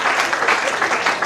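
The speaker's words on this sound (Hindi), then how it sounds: "जोरदार तालियां, बहुत अच्छे ढंग से।" Loud, dense applause from a crowd at a Hindi comic poetry gathering (hasya kavi sammelan), steady and continuous through the whole moment with no pauses.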